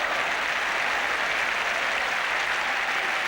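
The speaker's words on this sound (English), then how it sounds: "And a warm round of applause for Steve Perryman from his teammates as well." Warm, sustained applause from teammates and a football crowd for Steve Perryman as he leaves the pitch in a match against Arsenal, a dense, even wash of clapping that holds steady throughout.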